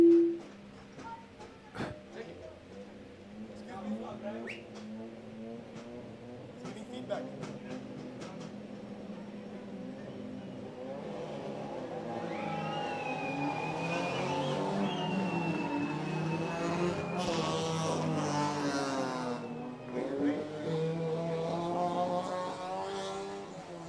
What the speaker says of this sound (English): Looks like they're revving.